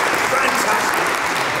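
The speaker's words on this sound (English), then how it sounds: "Give him a round of applause" A maths variety show audience gives a volunteer a round of applause: dense, steady clapping fills the whole stretch at an even level, with a few voices mixed in.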